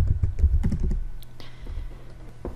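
Keys tapped on a computer keyboard as a French form field is filled in, a quick cluster of close, crisp clicks at the start, then scattered isolated taps with quiet pauses between.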